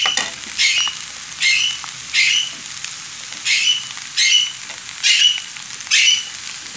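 Vegetable stalks and white onion fry in a pan for chow mein, making a crisp hiss that swells in regular bursts about every second as the food is stirred, with no talking.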